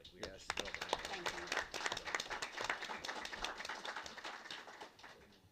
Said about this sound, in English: I just want to give you guys another hand of applause.